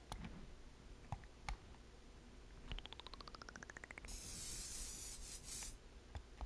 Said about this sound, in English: choosing your color, then spray painting